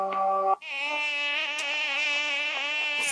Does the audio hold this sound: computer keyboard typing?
no